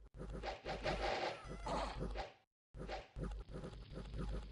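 Horse neighing in the video game Dominions 6, loud repeated whinnies and snorts in close succession with a brief gap of silence partway through.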